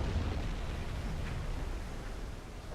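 Torpedoes detonating against a ship's hull in Silent Hunter 5 produce a deep, sustained underwater rumble. The roar stays heavy and steady for nearly three seconds and dims only slightly toward the end.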